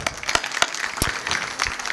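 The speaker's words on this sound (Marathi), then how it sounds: "बाबासाठी एकदा जोरदार टाळ्या वाजवा." An audience at a lecture on Ahilyabai Holkar's birth anniversary claps, a short, somewhat sparse round of applause with distinct individual claps standing out.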